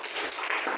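A church congregation stands and claps to welcome visitors, a brief dense patch of many hands clapping together at moderate volume, with no voices over it.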